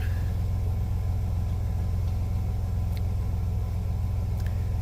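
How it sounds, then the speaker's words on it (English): Chevrolet Astro van engine idling in cold weather, a steady low rumble that holds evenly throughout, close and continuous with no talk over it. "We'll let it idle for a little while, and then we'll bring our RPMs up."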